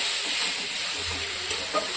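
Marinated mushrooms for a doi masala dish sizzling in a hot pan, a bright continuous frying hiss with a few brief crackles and a soft stir, close and steady, with no talk.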